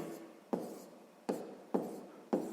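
A pen writes a math solution by hand on paper, steady scratchy strokes broken by four sharp taps as new marks begin, close and quiet.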